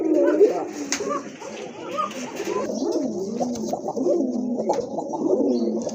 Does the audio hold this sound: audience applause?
no